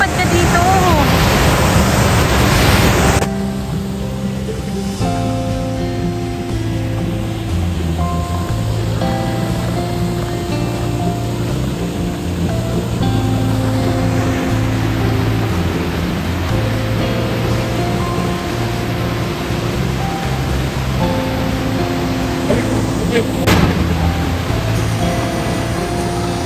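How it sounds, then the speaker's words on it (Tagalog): Dunsulan Falls in Bataan, a waterfall heard as a steady, full rush of falling water that runs the whole time beneath people talking and other sustained tonal sounds. "ito yung falls namin"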